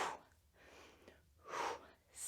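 A forceful breath out during a barre workout exercise, heard as two broad breathy exhalations with a quieter pause between them, close and fairly soft.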